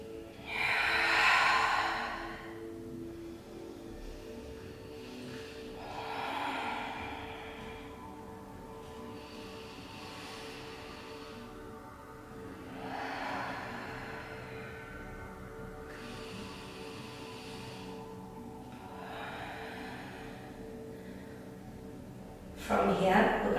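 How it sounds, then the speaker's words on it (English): Slow, deep breaths during a yoga-style lunge stretch come in several long inhale-exhale swells spaced evenly apart, close and fairly soft, with a short louder burst at the very end. "4 breaths here."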